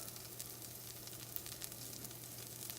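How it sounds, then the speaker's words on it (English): Butter sizzling in a hot pan at the start of cooking kadai tofu, a continuous soft crackling hiss with occasional sharper pops, moderately quiet and close, with a steady low hum underneath and no voices. "Add little butter"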